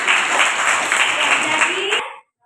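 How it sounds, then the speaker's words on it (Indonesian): Audience applause during a lecture on human rights values, a dense wash of clapping filling the room at steady strength for about two seconds before cutting off abruptly. "Iya, berikan tepuk tangan."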